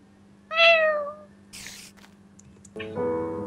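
Meowing of a cat in the Minecraft video game, a single drawn-out meow followed by a second, shorter cat call over a steady low background hum, heard alone without talk.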